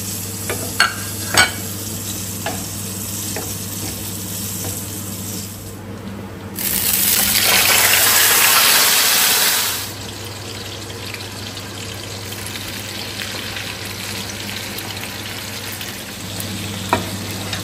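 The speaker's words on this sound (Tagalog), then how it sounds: "So, gusto ko medyo prito-prito natin to. Mag-brown-brown." Garlic, ginger and onion fry in a pan, giving a continuous close sizzle with scraping stirs and light clinks; the sizzle swells sharply louder for a few seconds midway, then settles back, with no talking.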